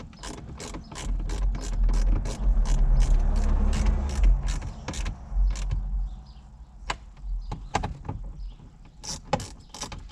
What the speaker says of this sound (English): get your 7mm and tighten them up